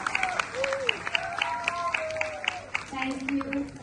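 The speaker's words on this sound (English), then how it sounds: "Let's give a big round of applause for the newest dancers." An audience applauds junior dancers after a student dance performance, steady crowd clapping running throughout beneath a voice speaking and cheering over the top.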